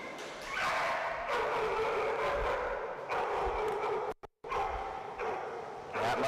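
A dog barks repeatedly in loud, rapid yips and bow-wows at an outdoor dock diving air retrieve event, close by and almost continuous, broken by one brief silent gap.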